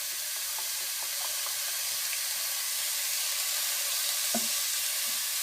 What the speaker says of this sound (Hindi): अब प्याज़ों को आधा फ्राई करना